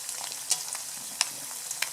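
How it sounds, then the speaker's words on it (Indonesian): Eggs frying in a pan over a fire fueled by paper-waste briquettes: a steady soft hiss of sizzling oil with occasional sharp pops and crackles, faint and close, no talking. "Kita akan goreng telur-telur berikutnya"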